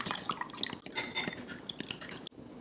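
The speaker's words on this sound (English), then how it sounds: "Crack the eggs into a bowl and lightly beat them." Eggs lightly beaten in a bowl with a utensil for egg fried rice, giving quick clinking, tapping and wet sloshing strokes in an irregular rhythm, close and moderately quiet, with no talking.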